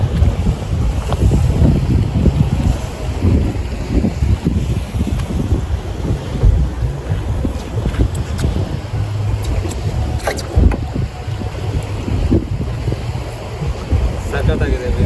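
Steady wind buffeting and engine rumble on a boat crossing open sea near the Phi Phi Islands, Thailand, with water rushing below, loud and continuous throughout with no talk.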